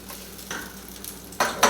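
Omelette egg mixture with vegetables and ham cooking in a pan on raised heat, a soft close sizzle with brief bursts of louder frying and scraping near the end.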